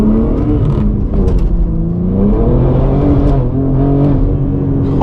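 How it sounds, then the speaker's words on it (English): Straight-piped BMW M4 G82 with MAD catless downpipes and a titanium exhaust, revving and accelerating loudly from inside the car, the engine note rising and falling with a raspy, droning roar. "this car sounds wild with this catless downpipes from MAD and a titanium exhaust"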